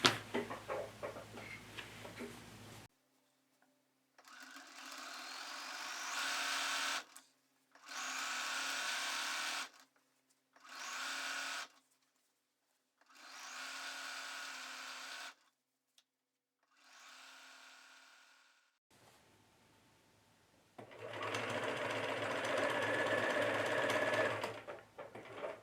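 A home sewing machine stitches a seam on a Laura Ashley summer hat in several loud, steady bursts of whirring, separated by short pauses, with fabric handling between runs.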